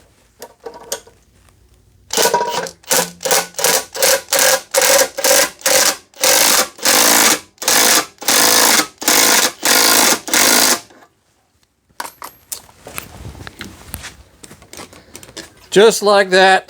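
A motorcycle jack lifting a Harley-Davidson cruiser bobber: about fifteen loud, evenly spaced mechanical strokes in a steady rhythm, then quieter handling noises and a brief spoken remark.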